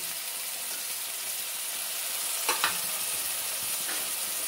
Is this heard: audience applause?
no